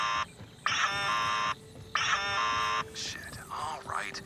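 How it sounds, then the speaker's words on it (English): An alarm trips in the video game Borderlands 4, sounding as loud, sustained electronic buzzer tones that repeat in long blasts, with a voice speaking briefly between them. "Must have tripped the alarms."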